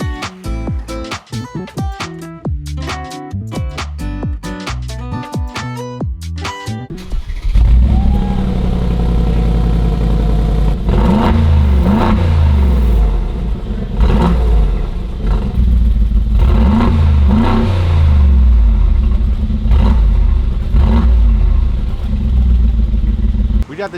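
A Mercedes G63 G-Wagon with a custom Borla valved straight-pipe exhaust revs hard, loud and close, with deep repeated surges and crackles under speech, after a stretch of music at the start.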